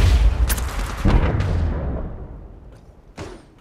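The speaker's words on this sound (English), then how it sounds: "Shots fired at me." Rapid gunfire bursts and booming impacts in the mobile battle royale game Apex Legends Mobile, loud and close, with several sharp shots early and more scattered hits later over a dense rumbling background.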